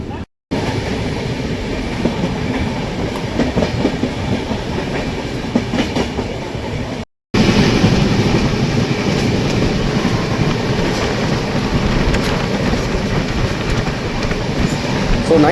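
Howrah Superfast Express running on rails, a steady loud rumble with rhythmic wheel clatter heard from onboard, continuing throughout with a brief cut partway, faint voices underneath.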